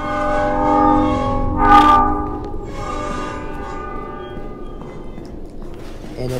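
A train horn blares in a Roblox game at a railway crossing, a long sustained multi-tone blast with a louder burst midway, over the rumble of a train passing close by.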